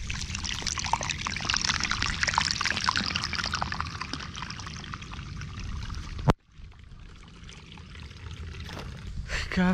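Water pours and splashes steadily nearby, a continuous rushing stream that cuts out abruptly partway through, then returns more faintly.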